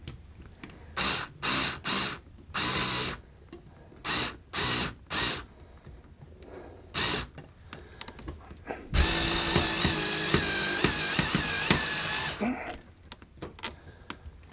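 A power drill drives screws to mount a Tortoise switch machine on a model railroad layout: several short separate bursts, then one long continuous whir of about three seconds, close and loud.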